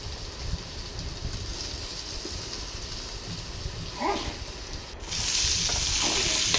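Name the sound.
potato pieces frying with onion and turmeric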